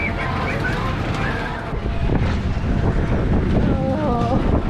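The Scrambler ride at DelGrosso's Amusement Park whirls along with heavy rushing wind and rumbling machinery, a loud steady roar with shifting tones and faint voices in the background.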